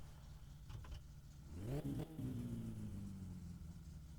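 A car engine in the driving game My Summer Car revs up sharply as the car reverses, then the pitch slides down and settles into a steady rumble.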